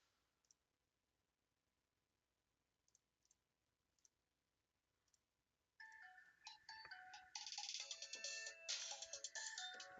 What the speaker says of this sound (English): I'm getting a phone call from someone